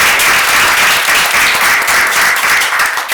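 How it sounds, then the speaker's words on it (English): A crowd at a Roanoke city council meeting gives employees a loud round of applause, a dense and continuous burst of clapping that fills the room. "let's give a big round of applause to all of our employees"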